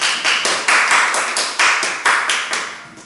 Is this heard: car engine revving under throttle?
no